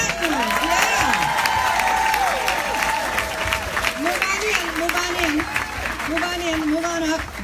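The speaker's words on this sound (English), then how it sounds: "We need a round of applause for our diamonds and our platinums." A conference crowd applauds and cheers in a hall in Venice, Florida, sustained clapping with whoops while a voice talks over it near the microphone, the applause steady throughout.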